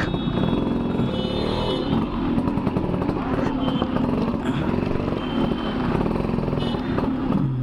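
A restored Yamaha RX two-stroke motorcycle engine runs loud and close with a raspy, buzzing drone, while someone talks over it.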